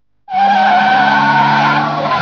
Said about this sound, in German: Doch auch ein Porsche kann ins Schleudern kommen.